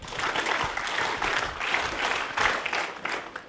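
An audience at a workshop event claps in a sustained round of moderate applause. The sound swells and dips in waves and stays fairly distant.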